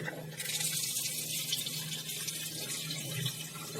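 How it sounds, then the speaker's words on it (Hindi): Cold tap water runs steadily into a bowl of spinach being rinsed for Kashmiri palak chaman, a continuous close splashing stream with no talk. "अब हम इसको ठंडे पानी से धो देंगे टैप वाटर से"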